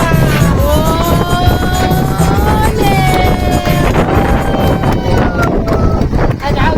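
Wind buffets the microphone outdoors at a family party, a loud continuous rumbling roar that runs under someone talking throughout.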